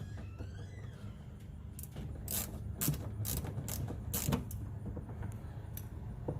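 Ratchet clicking as bolts on deluxe rock guards are snugged down on a Dodge Challenger, a few short bursts of ratcheting clicks close by over a low steady background hum.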